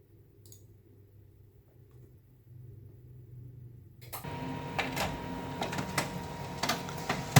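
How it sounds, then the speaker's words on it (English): Quiet mechanical humming builds into the whirring, clicking rhythm of a Samsung four-color laser printer feeding and printing a page, close by. "So this is the laser printer that I'm using."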